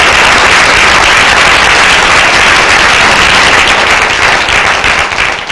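An audience in a lecture hall applauds to welcome a guest speaker. The clapping is dense and loud, holds steady throughout, and begins to fade at the end, with no talking over it.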